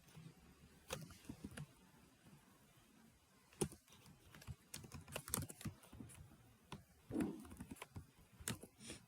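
Someone types CSS code on a computer keyboard in irregular bursts of light, quiet clicks and taps, alone and close, with brief pauses between strokes.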